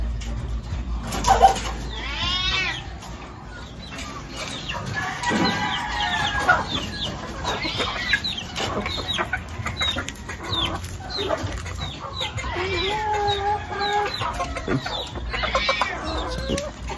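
Chickens clucking and calling at close range over a steady low background hum, with scattered bird calls throughout.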